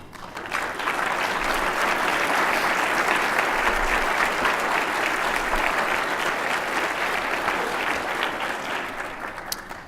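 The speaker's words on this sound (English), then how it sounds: "So would our examiners, judges, and trainers please stand for a round of applause?" Sustained applause from a conference luncheon audience honoring volunteer examiners, judges and trainers, a dense steady wash of many hands clapping close and loud for about ten seconds, with no talk over it.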